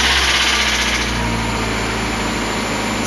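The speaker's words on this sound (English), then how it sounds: "So I'm going to now just turn the engine over just to get the oil circulating" A Mazda MX5 engine runs steadily right after an oil change, a close, loud, even idle with a buzzing mechanical hum and no voices.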